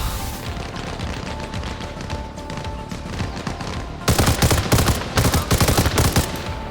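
Bursts of rapid gunfire crackle over a dense, busy background of game sounds in Arma Reforger, growing louder and sharper near the end.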